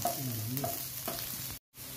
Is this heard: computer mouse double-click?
no